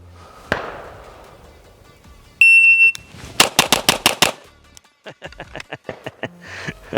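Gunshots from a 2011-type pistol during a timed build drill: a shot-timer beep, then a rapid string of six sharp cracks, a brief pause, and another quicker burst of shots, loud and close with no talking.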